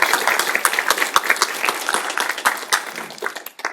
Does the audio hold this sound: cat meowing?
no